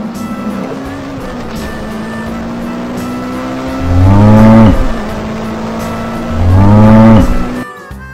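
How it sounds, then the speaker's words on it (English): A cow lets out two long, loud moos several seconds apart over a constant background rumble. "Cow."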